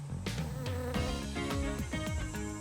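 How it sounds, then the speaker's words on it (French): Bees buzzing around flowers, close and fairly loud, with wavering drones rising and falling as the insects move, over an animated-show soundtrack. "Ça y est, les abeilles arrivent."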